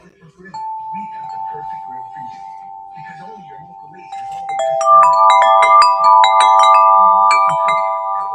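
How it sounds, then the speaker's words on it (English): A Shenandoah Melodies wind chime fitted with a festive wind catcher gives one sustained tone at first, then a cluster of ringing metallic notes that overlap and linger, while a person talks quietly underneath. "Shenandoah Melodies with a festive type wind catcher."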